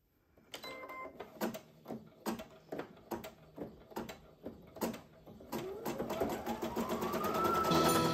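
An embroidery machine stitches a free-standing lace rainbow charm, producing a close, rhythmic series of mechanical thumps that build into a continuous rising whir as the stitching speeds up.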